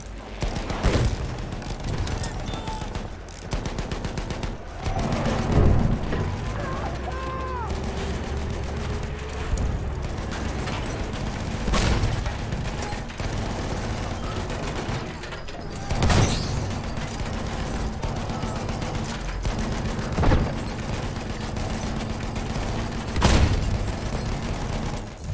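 Mortar rounds and cannon blasts boom through a tank combat video game, with repeated heavy thuds and rumbling bursts spread across a continuous mechanical engine drone, and a few louder impacts standing out every several seconds.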